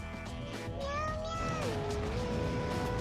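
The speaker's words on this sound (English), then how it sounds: "Sad meow song." A soundboard plays a sad meow song: a drawn-out cat meow that slides upward, wavers and then drops, sounding over a constant layer of game or background music.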